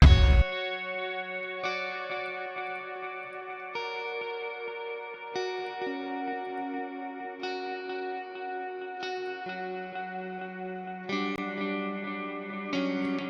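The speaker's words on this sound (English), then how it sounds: "I recorded each note individually with a pick" Single guitar notes, each picked separately with a pick, ring out one after another about every one and a half seconds in a mix, bathed in wet reverb and a quarter-note delay that trails each attack; no voices.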